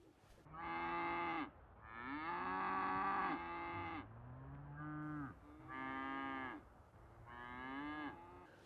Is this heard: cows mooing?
yes